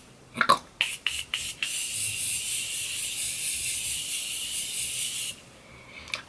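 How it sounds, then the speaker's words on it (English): A Morphe makeup setting spray gives a few short clicks and puffs, then one long steady hiss of mist lasting several seconds before stopping abruptly, close and fairly loud. "even though this setting spray is not my favorite, we're gonna go on with it"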